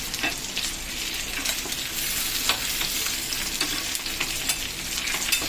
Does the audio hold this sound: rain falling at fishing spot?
no